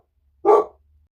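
A pet dog barks once nearby, a single loud, sharp bark that cuts off quickly in an otherwise quiet room.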